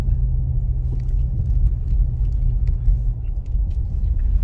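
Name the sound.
car driving on a snowy road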